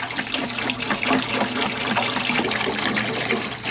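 Simple Green cleaner poured into an ultrasonic cleaner tank, liquid splashing and gurgling continuously and close for a few seconds, loud and uninterrupted.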